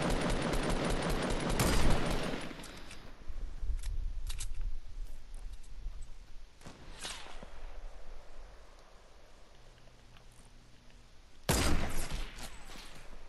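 Gunfire in the video game Fortnite: a rapid burst of shots at the start and another near the end, with quieter game noise between them.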